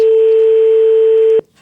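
A telephone line tone held steady and loud for over a second, then cut off abruptly, as a call is placed for a prank.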